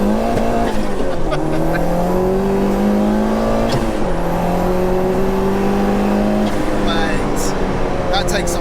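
Peugeot 205 GTI with a 2.1-litre stroker turbo engine making 315 bhp, driven hard on boost: loud sustained engine drone rising in pitch through gears, a sharp shift dip midway, with voices talking over it.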